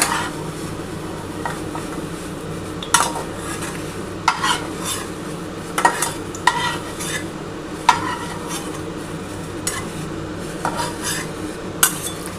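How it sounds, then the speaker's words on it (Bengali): Onions fry in oil in a kadai while a spoon stirs them, giving a steady close sizzle with repeated metallic scrapes and clinks against the pan, with no voices. "দেখো এইভাবে তোমরা ভাজবে কিন্তু পেঁয়াজটাকে"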